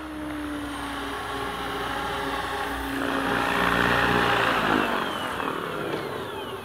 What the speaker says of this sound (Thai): 3นาทีแล้วนะครับต้องลงจอดแล้ว